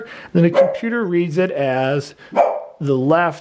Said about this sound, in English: Clearly you can hear my fat bulldog in the background.